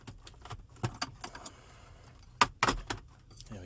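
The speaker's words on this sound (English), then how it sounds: "Get in behind this air duct, pull it out." Plastic air duct being pulled free from the dashboard of a BMW X5 E70, heard as a series of short, close clicks and scraping knocks, with two louder bursts near the end.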